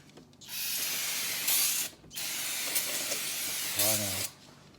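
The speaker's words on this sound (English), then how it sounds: "I'm going to spray a little bit on the rotor." Brake cleaner is sprayed onto a brake rotor in three loud, close hissing bursts with short gaps between them, and a brief voice cuts in near the end.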